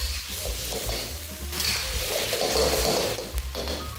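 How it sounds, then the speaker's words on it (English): Steady sizzling and frying of vegetable noodles stir-fried in a hot pan, with occasional scrapes and clinks of a utensil stirring, close and continuous. "after stir-frying the noodles until they're fragrant"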